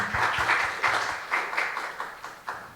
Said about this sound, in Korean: 우리 하나님 영광 박수 올려드립니다